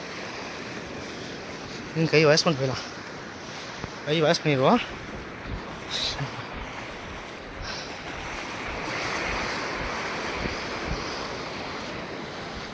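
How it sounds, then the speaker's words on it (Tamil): Sea waves break and wash steadily on the shore at Arichal Munai, Dhanushkodi, under strong wind buffeting the microphone, while people talk nearby over the constant surf. "அந்த கடல் அலைகள் சத்தம் நல்லா கேட்குறதுக்கே"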